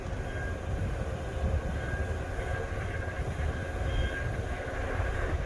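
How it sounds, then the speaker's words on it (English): A grain bin aeration fan gives a steady, dense mechanical roar with a low rumble and faint whine, running continuously at close range with no pauses. "Fan doesn't sound super awesome"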